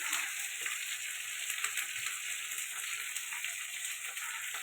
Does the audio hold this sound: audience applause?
no